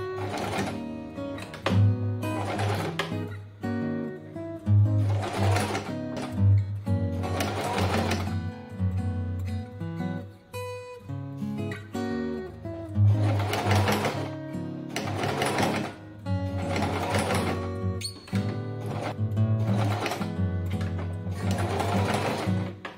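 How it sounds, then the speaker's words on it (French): Domestic sewing machine stitching darts into sequin fabric for a wrap skirt, loud and close, running in steady rhythmic bursts with short pauses between seams. "on va déjà coudre les pinces sur le tissu principal. Donc ici le tissu à sequins."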